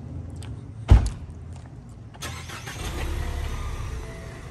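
A car starts up for a ride: a sharp thud like a door near one second, then an engine catching and idling with a steady low rumble that grows slightly louder, with no talking.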